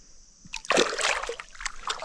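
Freshly caught smallmouth bass released back into creek water, giving a sharp close splash followed by a second of sloshing and dribbling water, alone with no talk.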